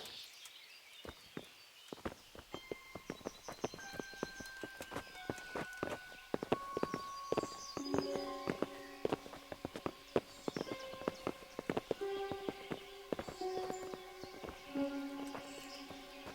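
Horse hooves clip-clopping in the medieval video game Kingdom Come: Deliverance, a steady run of faint hoof strikes heard under soft musical tones.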